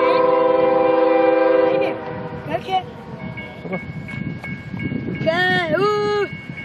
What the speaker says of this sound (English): Watch the train, guys.